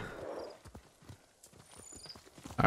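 Horse hooves clip-clopping in Ghost of Tsushima, a run of uneven hoof strikes at moderate distance. A brief whinny-like rise and a loud thump come near the end.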